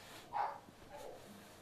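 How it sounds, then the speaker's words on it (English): A dog in the Minecraft video game barks twice, faint and distant, against a quiet background. "Dog barking."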